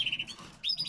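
A pair of ivory-coloured breeding birds chirping indoors: two short, bright tweeting bursts close by, separated by a brief gap, with no one talking.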